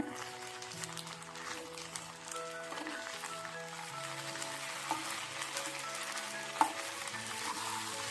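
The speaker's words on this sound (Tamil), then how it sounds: "நாட்டு சர்க்கரை போட்டு நல்லா கிளறி விடுங்க" Country sugar is stirred into a cooking pan with sago for Chettinad ukkarai, giving continuous scraping and stirring over a soft, steady sizzle.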